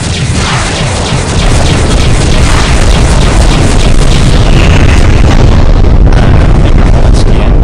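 The Asmodeus warship blowing up in Freespace 2 makes a loud, sustained roar of explosions, dense booming and crackling rumble that fills the whole stretch without letup, with no voices over it.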